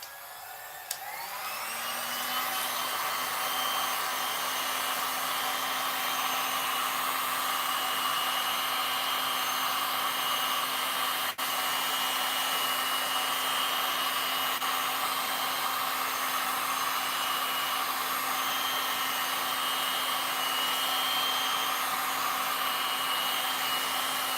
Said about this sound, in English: I'm going to go ahead and heat this up. So this is your heat gun warning.